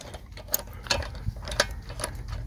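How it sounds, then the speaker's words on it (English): A ratchet clicks in short, irregular bursts as a 1/2 inch socket tightens a rear brake caliper bolt on a Mercedes-Benz, close and fairly quiet, with no voices. "We're going to tighten it one more time with the actual 1/2 inch socket."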